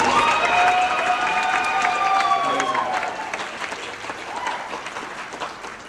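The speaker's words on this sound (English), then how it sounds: "Can we get another big round of applause for all of them?" Audience at a talent show applauds the performers, a dense, steady wash of clapping with some cheering that stays loud for about three seconds and then eases to a lighter, sustained patter.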